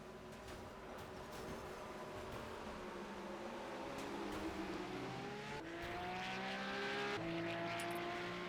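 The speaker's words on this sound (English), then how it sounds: "Was that the pace car that just fucking sounded like an F1 car taking off?" A pace car in an iRacing 1987 NASCAR Legends race at Talladega Superspeedway accelerates hard, its engine note climbing in rising, whining sweeps like a Formula 1 car taking off. The sound grows louder over several gear-like steps, with no talking.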